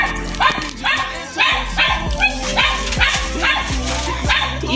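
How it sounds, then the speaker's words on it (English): A dog barks repeatedly in a fast, steady series of loud, close yaps and bow-wows, about two per second, with some whimpering yips mixed in and no speech over it. "it's a dog barking in the back"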